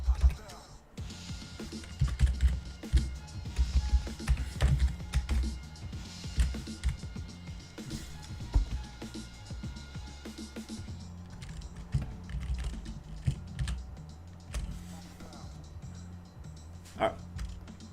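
Typing on a computer keyboard while working on a co-op rafting game, with irregular clusters of close key clicks and clacks, some heavier taps, and someone talking quietly between bursts.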